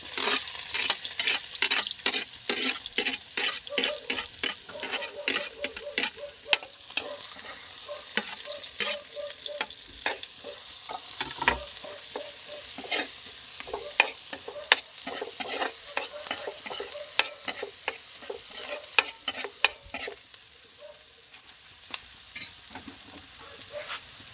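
White onion frying in a pan for a pasta dish, stirred constantly: a steady crackling sizzle with rapid, close scraping and clicking of a utensil against the pan, running on without talk.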